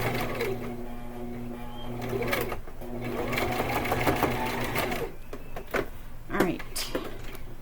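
A sewing machine stitches a rice bag shut, its rapid mechanical whir running steadily through the whole stretch with brief pauses and clicks, while a voice talks over it.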